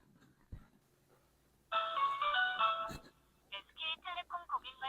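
An outgoing call rings from a KOSPET Tank T3 smartwatch, a short electronic ringback tone followed by a recorded voice announcement, with a faint click before it.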